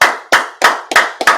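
Congregation clapping in unison at a Sabbath service, five loud, crisp, evenly spaced claps about a third of a second apart, close and dry.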